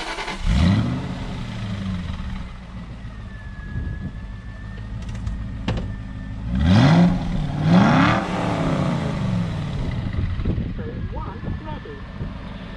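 Aston Martin V8 Vantage with stock exhaust fired up from a not-quite-cold start, the engine catching and then blipped in several loud revs that rise and fall, with people talking over it.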